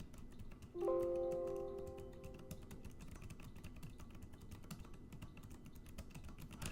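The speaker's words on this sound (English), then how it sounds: "the keys kind of snap when you're typing with a metal ting" Rapid, light clicking of Alienware M15 R5 laptop keys being typed on, close and steady, with a short ringing metallic tone near the start.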